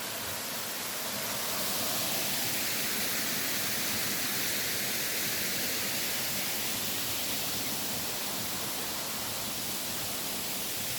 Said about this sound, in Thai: นี่ยอดน้ำตก